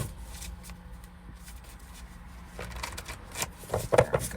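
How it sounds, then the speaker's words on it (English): Tarot cards are shuffled by hand in a quiet room, giving soft repeated riffling and flicking that grows a little louder and busier near the end. "One more shuffle."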